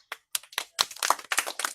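A small group claps during a needle-threading challenge game, about eight sharp hand claps in a loose, uneven burst, close and fairly loud against silence.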